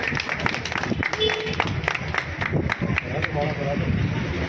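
Crowd applause welcoming a newly announced district media officer at an office inauguration in Neem Ka Thana, steady dense clapping over several seconds with talk mixed in.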